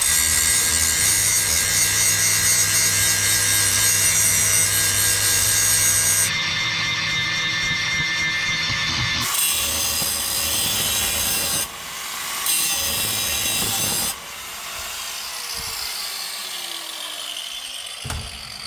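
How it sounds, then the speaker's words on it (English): An abrasive cutoff wheel grinds through the weld on a vehicle drive shaft, a loud continuous high-pitched cutting roar that shifts in tone and drops away in stages toward the end as the cut breaks through. "I've cut through the weld, and I've actually taken the cutoff wheel and I've just rotated the shaft pretty slowly until I've broken through"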